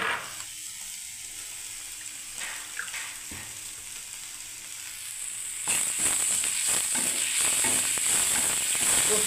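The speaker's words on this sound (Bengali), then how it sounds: "এই পোস্তটা দিয়ে আরেকবার আমি নাড়বো বন্ধুরা" Cauliflower frying with poppy seed paste, stirred in the pan: a low sizzle with occasional scrapes that swells into a louder, hissing sizzle with busy clattering partway through, close by and without speech.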